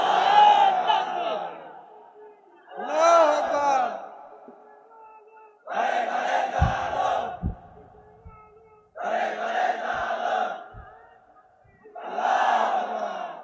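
A crowd at an Islamic sermon gathering shouts takbir in unison. Five loud chanted bursts come at regular intervals, with short quiet gaps between them.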